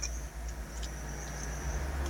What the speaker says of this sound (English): No mind you hearing the cars passing.